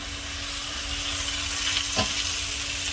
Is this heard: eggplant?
yes